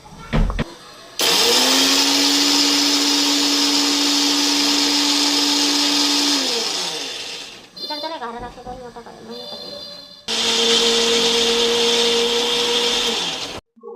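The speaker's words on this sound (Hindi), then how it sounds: "तो ये वाला मसाला पीस लिया, उसके बाद यहाँ पर धनिया पीस लेंगे।" A mixer grinder whirs loudly as it grinds coriander, a steady motor drone that winds down, pauses amid clatter and brief talk, then starts again at a different pitch.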